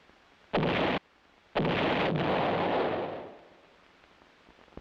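Two loud field artillery howitzer shots fire in quick succession, the first a short sharp blast and the second a longer boom whose rumble trails off over a couple of seconds, with no voices.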